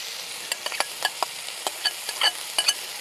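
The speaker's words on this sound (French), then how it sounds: "À cette étape-ci, on va rajouter notre oignon." Onion goes into sausage meat frying in a pan, a steady soft sizzle broken by a series of sharp scraping and stirring clicks at irregular intervals, close and fairly quiet, with no talking.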